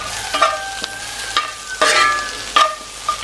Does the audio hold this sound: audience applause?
no